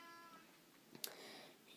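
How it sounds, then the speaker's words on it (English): A pet cat gives one short, faint meow in a quiet room, a single brief cry against low background hiss. "Sorry for my cat meowing."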